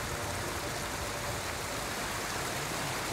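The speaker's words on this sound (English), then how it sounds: "Under the waterfall." Waterfall in the video game Ghost of Tsushima, a constant broadband rush of falling water, loud and unbroken throughout with no voices.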